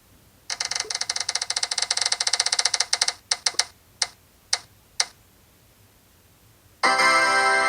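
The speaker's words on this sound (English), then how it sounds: "let's spin this wheel" A prize wheel spins with a rapid run of clicking ticks that slow and space out into a few last separate clicks as it stops, followed by a short burst of bright noise.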